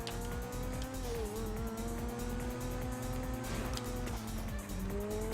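Turismo sports car racing in GTA, a loud sustained engine drone with shifting pitch and brief tire squeals, close and continuous, without talking.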